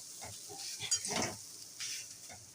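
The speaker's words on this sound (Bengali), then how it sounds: "একটু ভেজে নেবো এটাকে লাল করে।" Grated coconut with cardamom fries in a pan, giving a soft sizzle broken by a few brief scraping stirs, close and fairly quiet.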